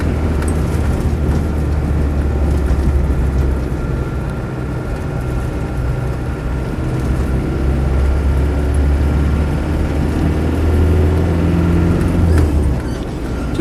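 Land Rover Defender 90 with an original 200TDi diesel engine driving along in third gear, a steady loud low drone heard from inside the cab throughout, with no talking.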